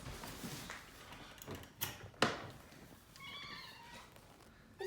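A distressed cat being carried during a house move, a few short meows and scuffling handling noises close by, ending in a thin high cry, fairly quiet overall.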